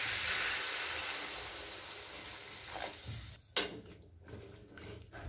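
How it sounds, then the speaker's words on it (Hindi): Water poured into a pan of pumpkin and chickpea curry with spices, a steady sizzle that softens and then bursts into a sharp hiss at the moment of pouring, followed by bubbling, with no talking. "अब इसमें डालेंगे पानी,"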